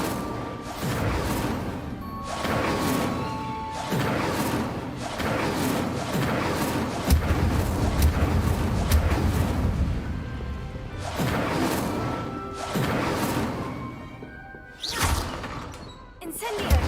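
Incendio fire spell cast repeatedly in the Hogwarts Legacy video game, a series of loud bursting whooshes and crashing impacts over a steady game soundscape, with a brief voice heard near the end.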